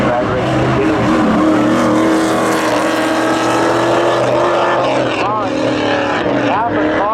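Race cars drag race side by side down a speedway track at a spectator drag event, their loud engines roaring and droning continuously, with a high tone that rises and falls near the end as the cars pull away.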